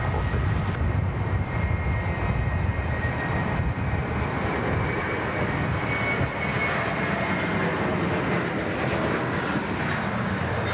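A Jetstar Airbus A321 jet takes off at Sydney Airport, its engines a loud, steady broadband roar that holds unbroken from start to finish, with no voices over it.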